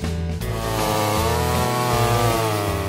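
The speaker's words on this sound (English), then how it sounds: "The roar of a chainsaw, the scattering of sawdust, the smell of a freshly cut oak tree." A chainsaw roars close up, its engine revving and bogging as it bites into wood, loud and continuous without speech.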